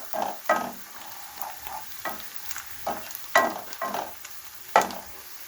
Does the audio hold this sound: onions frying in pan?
yes